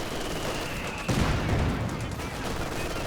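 Rifle grenade fired in Company of Heroes 2, a single mid-distance blast that bursts out after a second and rumbles on through the rest, set against steady battlefield gunfire and noise.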